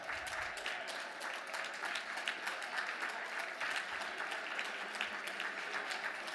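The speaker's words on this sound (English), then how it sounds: "May I ask anybody who ever took a course from, or heard a lecture from, or read a book by Robert Ferris Thompson to stand or applaud?" An audience at an awards ceremony, a gala ball with a lifetime achievement award, claps steadily throughout, a dense sustained wash of hand claps heard from within the hall.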